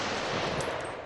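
Machine gun fire from a video game: a dense, continuous burst of rapid automatic shots, loud and close, sustained over about a second with no voices.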